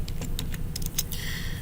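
Quick clicks of a computer keyboard as numbers are typed into drawing software, a few crisp taps close by over a faint room hum.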